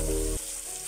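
Tomato pieces drop into a hot pan of Peruvian lomo saltado with the beef already cooked, setting off a loud, close sizzle that bursts at the start and then settles into steady frying crackle.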